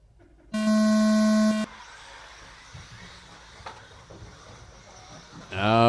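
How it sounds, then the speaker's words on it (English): Electronic start tone at an RC car race for a Mini T Pro Stock main event, a single loud steady beep lasting about a second over quiet track ambience, followed by faint sounds and a rising engine whine. "This is going to go with the sound of the tone."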